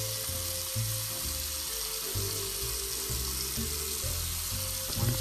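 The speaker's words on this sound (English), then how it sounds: "place your hands under the water and start scrubbing" Tap water running steadily into a sink while hands are scrubbed beneath it, a continuous hissing splash, close and fairly loud, with no talking.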